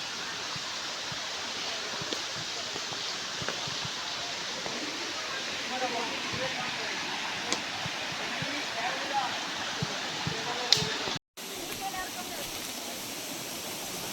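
A mountain stream at its source on a rainy-season trek gives a continuous rushing flow of water, steady and fairly close, with one brief cut near the end.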